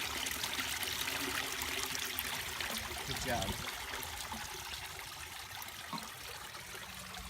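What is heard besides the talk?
hose water running down pond waterfall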